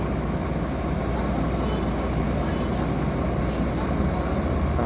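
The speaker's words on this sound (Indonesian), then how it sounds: "Nauli bus andalan legend Jet Bus 2." A Jetbus 2 coach bus, the Nauli company's bus, rolls past with a steady, loud broadband engine and road rumble that holds evenly throughout, with brief hissing bursts near the top end.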